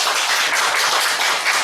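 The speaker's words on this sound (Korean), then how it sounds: "박수 한번 쳐드립니다." Steady applause from a church congregation welcoming a guest, a dense wash of many hands clapping together for under two seconds, loud and continuous with no voices over it.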